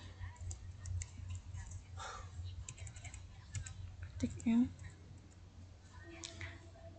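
Quiet typing on a computer keyboard in a command-line terminal, with light scattered key taps and a few clustered presses over a low background hum, plus a brief louder sound near the middle.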